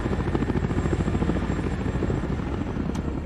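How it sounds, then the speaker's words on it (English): A helicopter in the strategy video game Shattered Union gives a loud, steady rotor thrum with a rapid pulsing beat, continuous and close throughout, with no speech over it. "So here's the real issue with choppers versus anti-aircraft guns."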